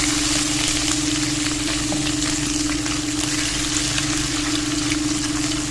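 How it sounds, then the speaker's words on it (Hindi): Ginger garlic paste fries in a pan for a spinach and radish saag, giving a loud, steady sizzle with faint stirring scrapes throughout and no voices. "1 टेबलस्पून इसमें डालेंगे अदरक लहसुन का पेस्ट, और इसको हमने थोड़ा सा भूनना"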